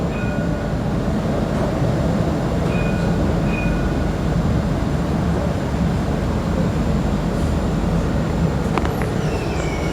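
A Dubai tram car carries passengers toward the Marina One Tower stop, heard from inside as a loud, steady rumble of wheels and motors with faint brief squeals, and no voices.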